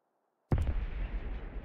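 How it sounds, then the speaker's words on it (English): Bombs exploding on an airfield in the War Thunder video game: after silence, a sudden heavy blast with a quick double crack, then a deep rumbling roar that lingers. "Drop bombs on the airfield."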